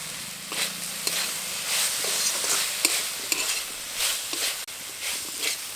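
Gima greens with potatoes and brinjal are stirred in a hot pan, a spatula scraping and turning in repeated sweeps over a soft frying sizzle, with occasional clinks against the metal.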